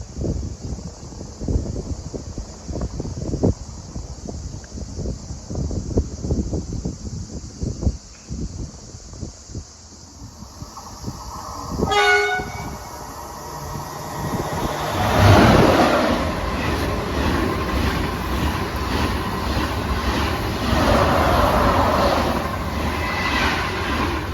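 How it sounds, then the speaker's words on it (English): TGV Inoui high-speed trains sweeping through Aubagne station, rhythmic wheel clatter building from a distance, a sharp horn-like blast, then a loud rushing roar and wind buffeting as the trains pass close by. "Passing through there was TGV 269 and TGV 263 on a TGV Inoui service"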